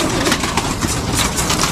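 Pigeons in a loft coo and rustle close by, a dense, continuous layer of soft bird sounds over low background noise.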